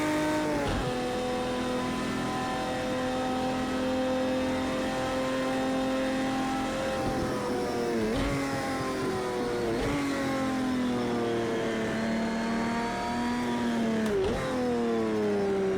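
A Porsche 917 LH race car in Project Cars 2 revs hard through the gears at Le Mans, its engine note climbing steadily, dropping sharply at each shift, then climbing again, loud and close.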